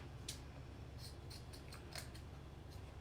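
Worn scissors snip jute twine for Christmas crafting, a series of faint, crisp cuts in an irregular rhythm over a steady low hum.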